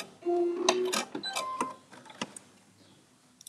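A home sewing machine runs a straight stitch while a bag is being made, giving a short burst of fast, steady mechanical whirring followed by a few faint clicks and handling sounds, close by.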